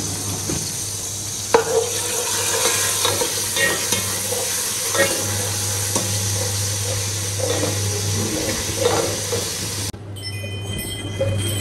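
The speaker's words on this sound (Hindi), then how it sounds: "ऑयल गरम, मैंने डाला है ये लहसुन अदरक का पेस्ट." Garlic ginger paste sizzles and crackles steadily in hot oil while being cooked for haleem, with occasional stirring clinks and scrapes, close and continuous, ending with a brief splash of water.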